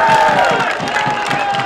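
Football fans cheering in the stands at a match in Balkhash: a loud, roaring crowd with shouts and whoops, plus rhythmic thumping beneath, sustained for under two seconds before stopping abruptly.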